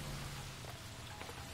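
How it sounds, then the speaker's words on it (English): Steady rain falls in the video game LA Noire, a soft, even hiss of drops on surfaces that runs faintly and unbroken throughout, with no voices over it. "It's raining."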